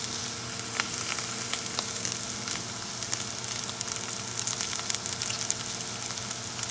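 Ribeye steak frying on a cast iron griddle, a steady close hiss of sizzling with small crackles and pops scattered throughout, with no voices.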